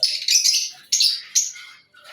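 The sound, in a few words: lovebird and ringneck parrot pairs chirping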